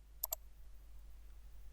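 Two quick, faint mouse clicks in close succession, alone in a quiet room with a low steady hum, as a file is opened in Paint on a computer.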